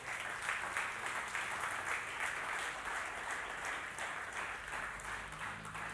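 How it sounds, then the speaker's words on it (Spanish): A church congregation applauds the Lord at a Spanish-language worship service, with steady, dense clapping from a crowd filling the room at an even level throughout, no voices standing out above it. "Denle un aplauso al Señor."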